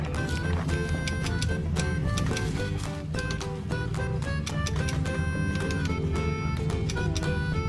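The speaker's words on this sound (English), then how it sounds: "It's important to keep these straight while it's ratcheting." A homemade fence stretcher ratchets in rapid, repeated mechanical clicks, dense and continuous, fairly quiet and close.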